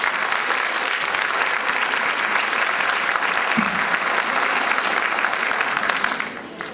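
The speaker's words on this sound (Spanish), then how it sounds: "Un aplauso para ella, por favor." An auditorium audience at a psycho-oncology panel applauds a speaker, a dense, even wash of clapping from a full hall lasting several seconds before fading near the end.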